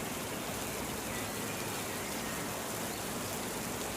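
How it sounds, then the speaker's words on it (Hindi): Heavy rain pours steadily at night, a dense, even hiss of downpour that stays loud and unbroken with no voices. "जो तुम इतनी बारिश में यहाँ आई हो?"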